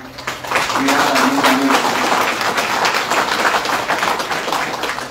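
Audience applauding faculty students at a physico-chemical waste laboratory inauguration ceremony, a steady crowd of clapping filling the hall with voices murmuring underneath.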